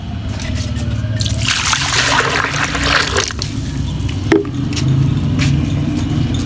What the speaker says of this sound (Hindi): इसमें डालते हैं पानी